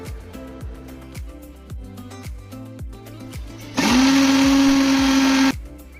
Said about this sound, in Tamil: ஒரு மிக்ஸி ஜாரில் போட்டு நல்லா அரைச்சிக்க போகிறோம் ஃபைன் பேஸ்ட்டாக